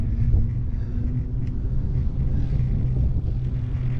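Steady low wind rumble buffets a microphone during a bike ride along an old railway trail, loud and continuous with no other sounds standing out.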